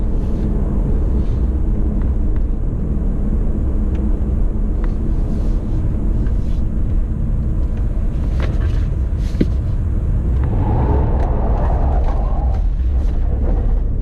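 A BMW 530e plug-in hybrid sedan turns around in a U-turn, giving a steady low rumble of road and cabin noise with wind buffeting, and no clear engine note rising above it.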